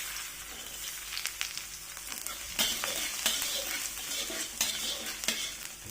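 Garlic and red chili frying in a hot pan for a vegetable dish with cabbage and meatballs, a steady sizzle broken by sharp scraping and stirring clicks of a utensil against the pan, close and moderately loud, no talk.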